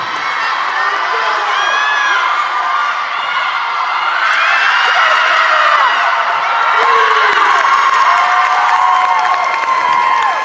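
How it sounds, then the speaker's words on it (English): A crowd at an acrobatics and tumbling championship cheers, whoops and shouts for an athlete, a loud, sustained roar with excited high voices throughout. "And she drew some pretty big cheers over here from the Frostburg State team as well"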